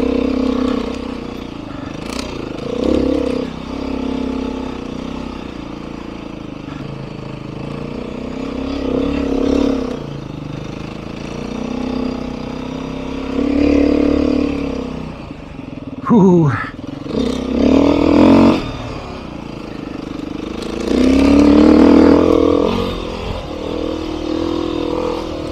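A Beta 390 dirt bike engine revs and pulls on a trail ride, a loud continuous drone that rises and falls with throttle, including one sharp rising rev, with someone talking over it.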